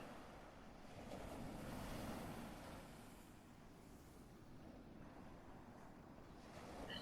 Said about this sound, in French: Entendez le bruit du ressac des vagues.